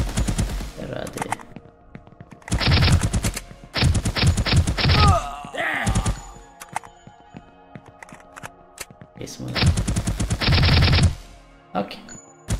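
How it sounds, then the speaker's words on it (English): Rapid bursts of automatic gunfire from a top-down shooter video game built in Unreal Engine 5 come in three loud volleys separated by quieter gaps, with brief impact sounds and a voice in between. "Can shoot them now and move and kill."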